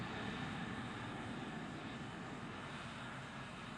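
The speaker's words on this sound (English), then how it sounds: "747-400, the latest model, touched down at Australia's Sydney International Airport" A Boeing 747-400 jumbo jet touches down at Sydney International Airport after a record nonstop flight from London, producing a steady, broad roar of engine and rushing air that holds at a constant level throughout.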